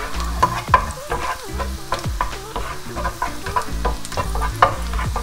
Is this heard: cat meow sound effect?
no